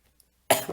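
A single short, sharp cough from the speaker bursts out during a poetry writing workshop after a moment of near silence, close and fairly loud.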